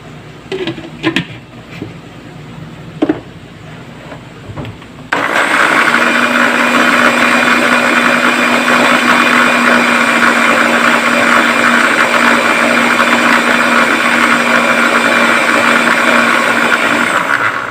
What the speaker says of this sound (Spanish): Lo voy a licuar.